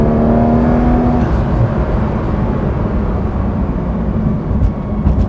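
Porsche 911 GT3 RS driven through turns and curves, its engine a steady loud roar with a sustained tone early on, heard from inside the car with no talk.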